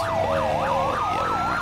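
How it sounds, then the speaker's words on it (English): Fire engine siren from a fire department video game wails in a steady, repeating rise-and-fall cycle, loud and continuous, with a second steady tone running underneath and no talking. "You can hear the new sirens I've got in at the moment."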